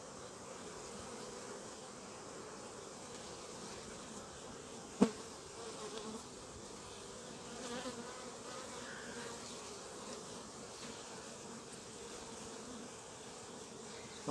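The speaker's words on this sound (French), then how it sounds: "Il est plein de pollen, celui-là." Honeybees hum steadily at a beehive during a strong nectar flow, a soft, continuous drone with one brief sharp knock partway through.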